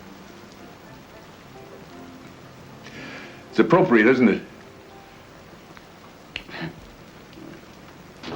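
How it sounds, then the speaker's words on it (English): Steady rain patters down at night, a soft continuous hiss under a couple of people talking, with a brief louder burst of voices midway. "Starting to rain"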